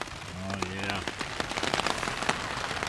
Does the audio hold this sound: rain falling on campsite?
yes